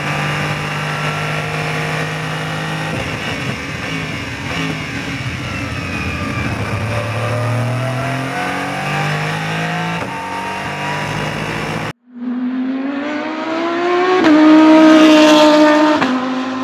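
Aston Martin V8 Vantage GT3 race car lapping a track on a test day, its engine loud and close throughout, revving up and down through gear changes, with a sharp cut then a rising high-rpm howl near the end.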